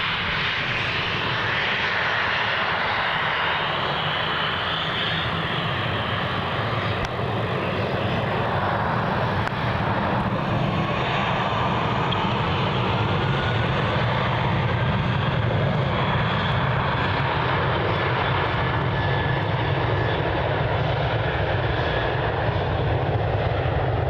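A Virgin Australia airliner departs Melbourne Airport bound for Canberra, its engines producing a loud, continuous roar that holds steady throughout.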